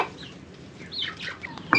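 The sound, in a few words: chickens clucking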